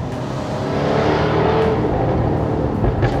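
A Jaguar F-Type V8 engine revs loud and close, a steady full-bodied roar that swells slightly through the middle with no talking over it.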